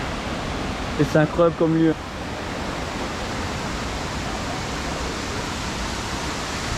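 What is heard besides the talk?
waterfalls on a rock face, Anse des Cascades, Réunion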